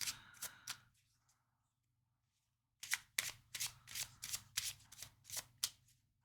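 Tarot cards are shuffled close by in quick riffling bursts: a short flurry, a pause of near silence, then a longer run of crisp, rhythmic shuffles.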